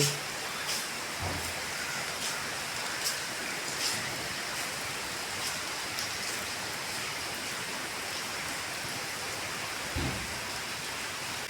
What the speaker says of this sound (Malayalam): പുറത്ത് നല്ല മഴ മഴയെന്ന് വെച്ചാൽ നല്ല മഴ